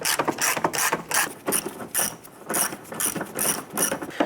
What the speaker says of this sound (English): We're going to use our socket and extensions to go ahead,